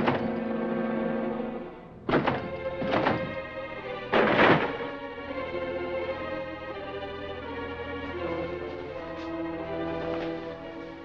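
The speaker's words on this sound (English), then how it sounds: "Break that door down." A door is broken down in a 1946 film scene: heavy thuds and splintering crashes strike around the two- and four-second marks over a sustained musical score, close and forceful.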